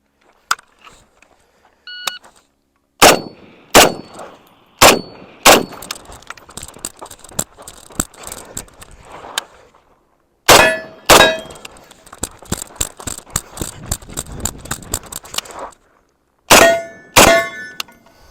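Rapid M1A rifle shots fire in separated bursts, each crack followed by a bright metallic clang from steel targets, loud and close with short quiet gaps between groups.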